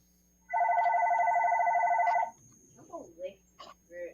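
A telephone rings with an incoming call, one long bright warbling trill lasting under two seconds, followed by quiet scattered voices talking.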